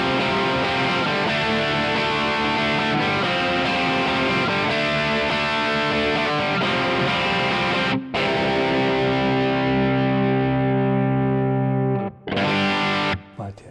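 Distorted electric guitar strums the chords of a song, loud and steady, with short breaks around eight and twelve seconds where the chord changes and a ringing sustain carries it through.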